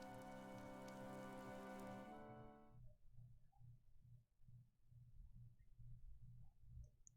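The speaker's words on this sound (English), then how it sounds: "The rain is really coming down now." Rain patters steadily in Fire Emblem: Three Houses, a soft, even wash of falling drops following a fading musical chord, with faint low pulsing beneath.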